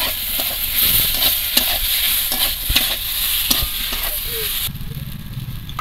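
Onion-mustard paste and chili powder sauté in a pan for a prawn and malabar spinach curry, loud sizzling punctuated by repeated spatula scrapes and knocks against the pan.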